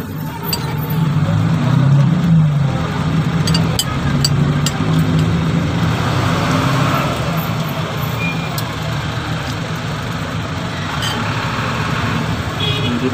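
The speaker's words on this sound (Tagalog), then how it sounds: "Traffic na naman ulit." Road traffic with cars passing, a loud continuous low engine rumble and roadway noise swelling and easing over several seconds, fairly close, with no talk.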